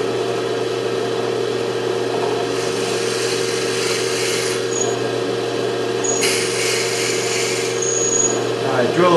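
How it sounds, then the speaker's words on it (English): A drill press runs with a steady motor hum and a whirring, bit-on-wood grinding tone that swells in bursts as it bores into a wooden pen blank. "Then the next step would be just to turn the drill press on and drill the hole."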